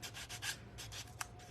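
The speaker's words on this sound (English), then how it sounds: "I just love sanding" A gourd is sanded by hand in short repeated rubbing strokes, about seven passes with brief pauses, close and fairly quiet.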